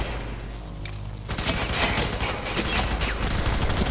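Gunfire in the video game FEAR 3 erupts after a quieter opening, a dense, sustained fusillade of rapid shots with booming impacts that stays loud and continuous to the end.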